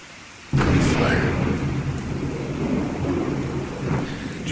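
A thunderstorm in the Fallout 4 wasteland breaks in abruptly with a loud crack of thunder, followed by several seconds of steady heavy rain and low rumbling that continues without voices.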